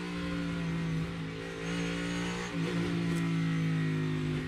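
A NASCAR Cup Series race car engine drones at low throttle through a slow corner of the Brickyard road course, a steady harmonic tone with a slight dip and swell in pitch partway through, heard as continuous onboard engine sound.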